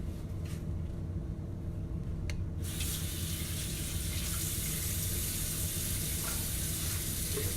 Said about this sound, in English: So I'm gonna rinse these off really quickly.